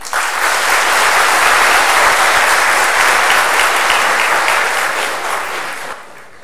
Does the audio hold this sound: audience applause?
yes